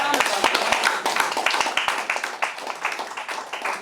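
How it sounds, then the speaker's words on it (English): A school debate audience gives scattered, uneven clapping, with individual sharp claps standing out, while voices are heard speaking over it. "Please clap for me."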